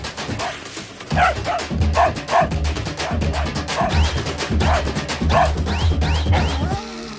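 A dog barks repeatedly at close range: about a dozen sharp barks in a quick, uneven rhythm, loud and clear over faint background noise.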